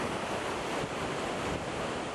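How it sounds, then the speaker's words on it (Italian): Rushing floodwater torrent at Valstagna pours into the Brenta river on a rainy day, a dense, loud, unbroken roar of churning water filling the whole stretch with no voices. "la furia dell'acqua comincia a farsi sentire"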